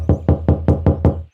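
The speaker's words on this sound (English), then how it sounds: "She loudly knocked at the door." Six loud, evenly spaced knocks on a wooden house door, each a sharp thud with a short ring, close and alone with no talk.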